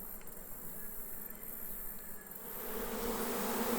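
Honey bees buzz steadily around a top bar hive in a bee yard, a dense continuous hum that swells slightly louder toward the end, with no voices.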